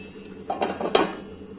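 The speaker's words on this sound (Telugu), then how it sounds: "ఇంకా కొంచెం మూత పెట్టేస్తానండి" A metal lid clatters onto a cooking pot of masala puri curry, a short cluster of two or three clinks and scrapes close by, with a soft background hum and no talk.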